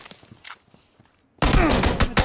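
Burst of gunfire in the video game PUBG, a loud rapid volley of shots cutting in abruptly after a quiet stretch of faint footsteps and movement.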